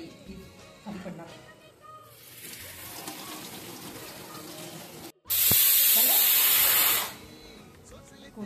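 Tap water gushing over coriander being washed, first a softer running stream, then a loud close spray for about two seconds before it cuts off.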